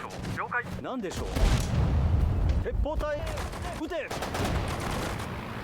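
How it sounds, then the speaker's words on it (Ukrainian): Gunfire and explosions from the Sudden Strike 4 multiplayer strategy game as units fire on a heavy tank from all sides, with a steady rumble of bursts and booms while someone talks over it. "тепер з усім сторін залишився один цей його важкий танк, і його просто з усіх сторін обстріляю"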